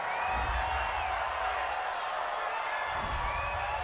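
A home football crowd at a Chargers–Titans NFL game roars steadily after a penalty call, a broad cheer from the distant stands that holds without a break.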